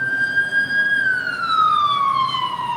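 An emergency vehicle siren wails steadily through a city, a single sustained tone that slowly falls in pitch as it passes, loud and continuous over faint background traffic.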